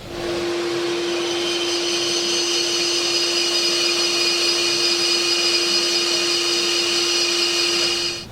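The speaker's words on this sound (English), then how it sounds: "We'll just mark this and then we can take it to the bandsaw." A bandsaw runs steadily while slicing a timber blank, a loud, close, continuous whine with a sustained tonal hum and a broad hiss that holds evenly for several seconds before winding down.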